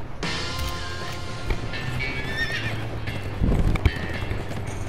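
Horse in a video game: steady clip-clop hooves with a whinny and neighing, over game background music, a louder burst of hoofbeats near the end.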